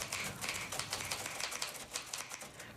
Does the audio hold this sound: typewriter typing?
yes